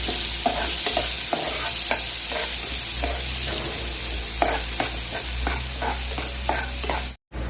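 Onions frying in a pan for vegetable rice, a bright continuous sizzle with regular scraping taps of a spoon stirring, close and steady, with a brief dropout just before the end and no speech.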